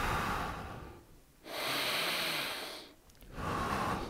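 Slow, deep yoga breaths sound close to the mic, with a long airy inhale, a pause, a long exhale, then another inhale. No one talks over the breathing.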